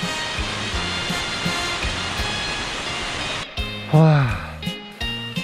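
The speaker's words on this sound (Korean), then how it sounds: "황농단 폭포가 줄기차게 흘러내리고 있습니다" Steady rushing water of Huanglongtan waterfall in the Guangdong Grand Canyon, China, fills the background while someone talks over it nearby.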